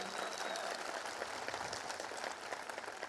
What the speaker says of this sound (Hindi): हम जितने पुराने लोग हैं जोरदार तालियों से उनका स्वागत करते हैं।